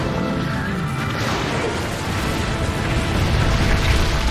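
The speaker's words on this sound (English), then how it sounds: "that explosion was so delayed from what I was thinking it was going to be" A delayed explosion in Monster Hunter Generations Ultimate, a loud, sustained rumbling blast with crashing debris that keeps roaring at full strength for several seconds without letting up.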